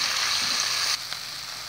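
Chopped ingredients for a ground meat stuffing frying in hot oil, a loud, steady close-up sizzle that drops a little in level partway through, with a faint clink of stirring.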